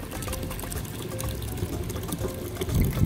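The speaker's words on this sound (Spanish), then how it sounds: "Ahora del agua que tenemos aquí purificada, vamos a acabarle de agregar un poquito más." Purified water pours into a homemade watermelon and strawberry drink, a steady, close, fairly loud splashing stream that runs continuously without speech.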